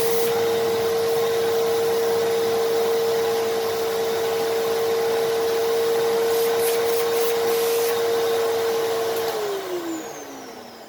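A Fantom vacuum cleaner fitted with an upholstery tool runs at close range with a loud, steady motor whine and rushing airflow, then winds down near the end as it is switched off.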